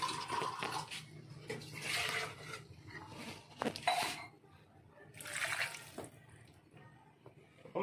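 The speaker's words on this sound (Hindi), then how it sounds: "अब मैं इसमें थोड़ा सा पानी डालूंगा गाइस, एक गिलास जितना पानी डालूंगा मैं इसके अंदर।" A glass of water is poured into a cooking pan on the stove, giving soft, uneven splashing and trickling bursts that come and go at a low level, close by.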